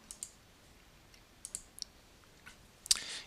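Computer mouse clicks in a quiet room, a few sharp isolated taps spread out, then a brief louder cluster at the end.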